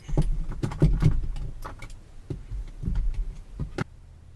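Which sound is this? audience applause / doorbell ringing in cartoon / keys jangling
keys jangling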